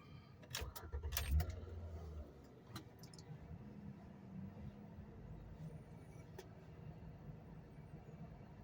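A Ford Five Hundred engine cranks and catches in a loud burst, then settles into a steady low idle with light clicks and rattles over it, no talking.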